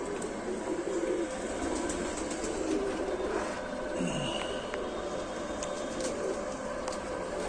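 Lal Sira pigeons in a Jammu loft give soft, low cooing under a constant rushing, rumbling background noise, with no one talking.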